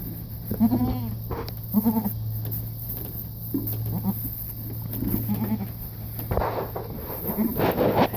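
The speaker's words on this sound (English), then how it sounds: "Okay, these are my goats." Several goats bleat in short, wavering calls spread across the clip, fairly close, over a steady low hum and some background noise.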